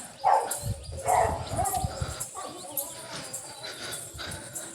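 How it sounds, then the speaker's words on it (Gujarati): A playful dog barks in a couple of sharp bursts near the start, then gives softer yips and whimpers against steady background noise and faint voices. "નીચે જુઓ કૂતરાએ રમવાનું ચાલુ કરી દીધું છે"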